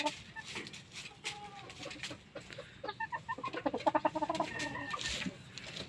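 A yellow rooster with long tail feathers clucks repeatedly in a farmyard, the calls growing into a dense run of loud, close clucks toward the end amid faint background noise.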